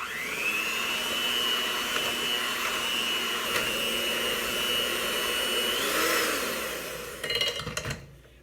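Electric mixer blending flour into cookie dough, a steady loud motor whine that holds for several seconds, shifts pitch briefly, then gives way to a few clattering knocks as it stops.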